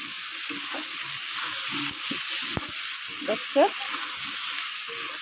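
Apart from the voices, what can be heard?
stirring cabbage with green peas and chillies in a wok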